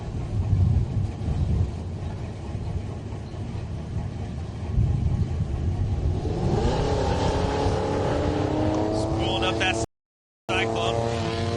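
Drag race launch of a 1938 Dodge Coupe and another hot rod at a Great Bend, Kansas strip: engines rumble loudly, then rise into revving, accelerating pitch sweeps as the cars pull away, with an announcer talking over it.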